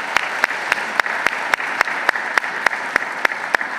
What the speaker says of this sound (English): Let's give them all a hand clap.